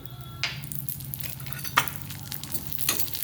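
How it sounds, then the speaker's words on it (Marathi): Urad dal tipped into leftover hot oil in a pan, crackling and sizzling steadily with a few sharper spits and stirring clinks over a low kitchen hum. "आता हे तेल उरलंय ह्याच्यामध्ये आपण उडीद डाळ टाकूया"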